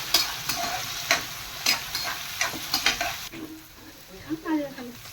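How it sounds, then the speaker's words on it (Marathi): Onion and chili sautéing in a pan, a steady sizzle broken by a string of sharp spatula scrapes and taps against the metal, close and fairly loud. "कांदा आणि मिरची. आता चांगलं परतून घेऊ ते."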